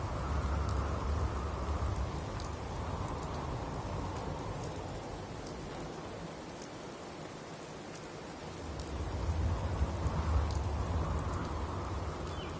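Heavy rain falls in a dense, continuous hiss, swelling and easing slightly over time, with no voices over it.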